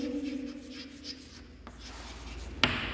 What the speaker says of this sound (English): Write the definition, how we can write it.